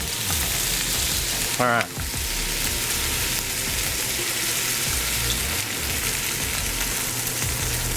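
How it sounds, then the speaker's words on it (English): Vegetables sautéing in a pan for a beef bourguignon: a loud, steady, close sizzle and crackle that runs through the whole clip, with a brief voice speaking over it. "We're going to saute these up just a little bit."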